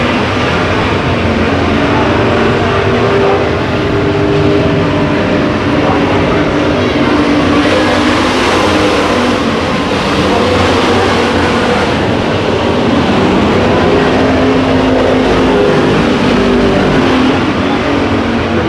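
Race cars thunder around Ocean Speedway in a heat race just after the green flag, a loud, continuous roar of engines with a commentator talking over it.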